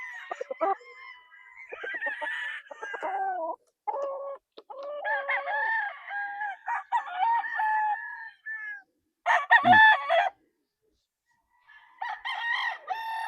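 A Sweater bloodline gamefowl rooster on a gamefarm crows and clucks nearby, with several loud crowing calls and short clucks separated by brief pauses, and no talk over them.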